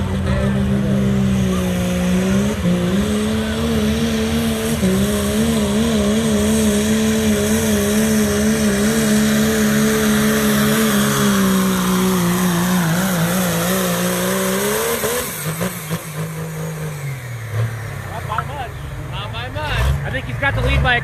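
A diesel pulling truck with a 6.7 liter Cummins and 2.6 turbo drones loudly and continuously, its engine note wavering up and down under a track announcer's voice, then sputtering and rising again.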